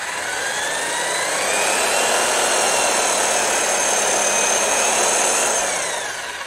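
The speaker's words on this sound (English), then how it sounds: "Cannot get over how serious this friggin' drill is." A powerful drill whines steadily and loudly for several seconds during a prop painting workshop, a dense, continuous high-pitched mechanical roar without talk.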